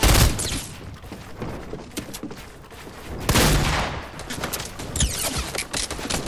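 Rapid gunfire crackles in the video game Fortnite, with loud, dense volleys of shots and bursts of weapon fire coming close together, swelling into a heavier barrage midway.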